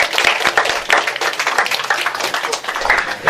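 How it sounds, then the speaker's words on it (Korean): A class claps after a scripture recitation in a religious education lecture, producing a steady, moderately loud round of many hands with a murmur of voices mixed in. "박수."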